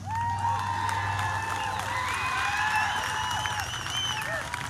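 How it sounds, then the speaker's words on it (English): Crowd at an outdoor Back the Blue rally in Torrington, Connecticut applauds and cheers steadily, with scattered whoops and high voices rising over a dense, continuous wash of clapping. "Big round of applause."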